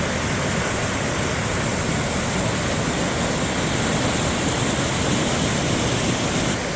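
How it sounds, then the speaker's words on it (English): A full waterfall pours down a big rock cliff at McCalls Ferry, a loud, steady, unbroken rush of falling water filling the whole scene. "here is a full-fledged waterfall coming down from a big rock cliff"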